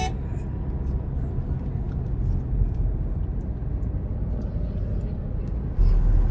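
Trucks and other vehicles rumble past on a mountain road toward Zoji La pass between Srinagar and Kargil, a continuous deep drone of engines and tyres that swells slightly near the end.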